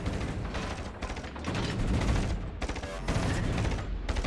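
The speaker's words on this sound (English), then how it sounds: "All stations, concentrate fire on the target." Ship guns fire in rapid, overlapping bursts during a World of Warships Legends naval battle, with a dense, continuous barrage of booms and clatter up close.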